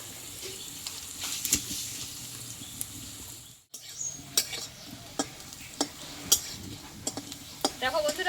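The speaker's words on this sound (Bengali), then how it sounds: "আমি ধীরে ধীরে বড়াগুলোকে ভেজে নেব" Red lentil fritters (bora) fry in a pan with a steady low sizzle, broken by scattered clinks and scrapes from turning them. A voice speaks briefly near the start.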